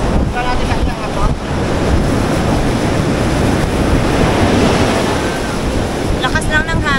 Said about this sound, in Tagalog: Lakas lang ng hangin dito.